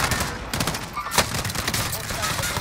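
Dense, chaotic gunfire fills a Call of Duty Warzone match, with rapid overlapping shots and bursts throughout, loud and close, mixed with game noise.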